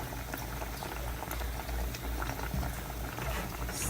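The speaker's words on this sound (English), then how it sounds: "This has been boiling for 5 minutes now" A pot of fish curry at a steady rolling boil, dense continuous bubbling and churning close by, with no voices.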